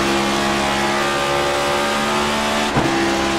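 Close, loud engine of a NextGen Cup Series race car holding a steady high drone, with a brief dip and jump near the end as it shifts into fifth gear.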